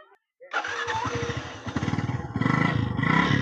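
A homemade motorcycle engine, an unusual home-built bike, cranks and catches after a short silence, then settles into a loud, rough, rapid idle that grows stronger and stays close, with no voices.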